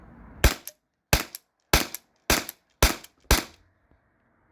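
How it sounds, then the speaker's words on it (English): Six sharp pistol shots from a T4E HDP50 fired in quick succession, evenly spaced and loud, with silence between each crack. "I'm just gonna shoot this. I'll try rapid firing."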